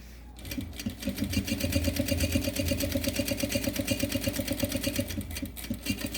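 A sewing machine topstitching at stitch length 4.5 on a gym backpack runs in a fast, steady mechanical rhythm close by, starting up after a brief pause and continuing without talk.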